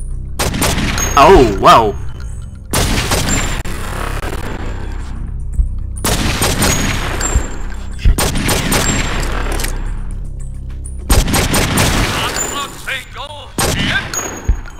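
Repeated bursts of gunfire from the video game True Crime: New York City, several loud volleys spaced across the stretch with brief pauses, with a short spoken exclamation in between.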